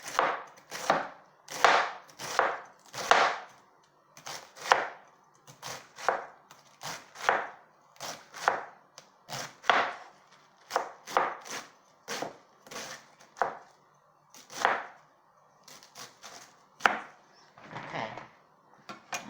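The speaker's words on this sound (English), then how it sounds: "I'm going to show you how I cut it because I cut it thin when I fry cabbage" A knife thinly slicing cabbage on a cutting board for frying, steady rapid chopping strokes in uneven bursts, close and clear with no talking.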